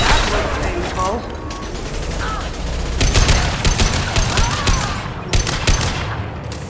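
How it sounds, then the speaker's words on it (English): Heavy high-impact weapon shots in the sci-fi shooter Mass Effect 2, a dense burst of loud blasts and mechanical clatter mixed with game effects and speech throughout. "Firing a high impact shot"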